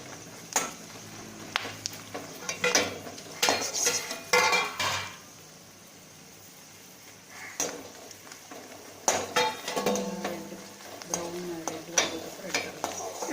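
Dried red chillies fry in a pan for fish gravy, with repeated clinks and scrapes of a spoon stirring against metal over a soft background hiss, the clatter pausing briefly midway.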